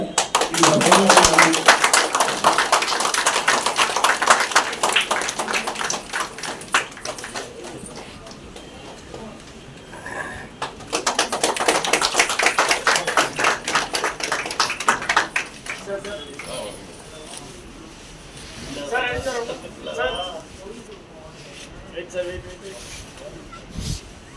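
An audience claps at a Tamil film launch event introducing the hero and heroine, with two loud bursts of applause, then quieter scattered clapping, as someone speaks over a microphone.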